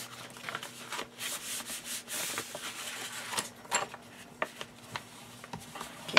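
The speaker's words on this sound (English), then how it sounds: "Give it a little burnish." Paper in a handmade recipe book being burnished, heard as soft repeated rubbing and scraping strokes, close and fairly quiet, with a few light taps.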